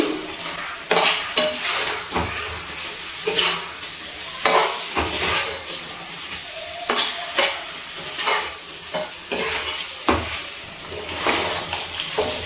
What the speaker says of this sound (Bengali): এবার আবারও সব কিছু ভালো করে মিশিয়ে নিচ্ছি